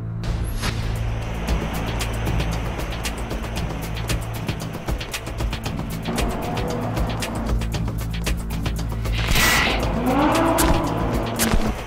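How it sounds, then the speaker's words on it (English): A Lamborghini Gallardo LP 560-4 drives beneath a freeway, its engine note echoing off the concrete in a continuous loud drone, with tire squeal and sharp revs near the end. "It's a pleasure to see this car going around here in the echo under this freeway we're at."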